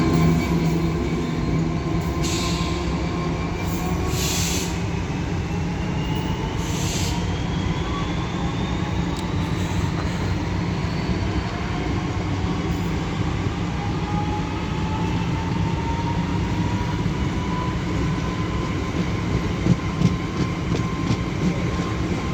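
Class 66 locomotive 66005 hauls a Maritime intermodal freight through Doncaster on the East Coast Main Line, a loud, steady, close rumble of passing wagons with squealing wheels and the rhythmic thump of several flat wheels.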